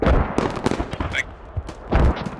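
Heavy explosive booms and thuds of artillery fire in a military video game during a multi-team scrim, close and loud, several impacts in quick succession mixed with bursts of gunfire.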